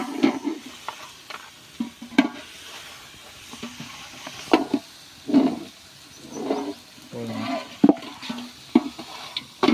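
Beef biryani being stirred in a pot, a ladle scraping and churning through the rice and masala in bursts of thick wet stirring over a faint steady sizzle, fairly close with no talk.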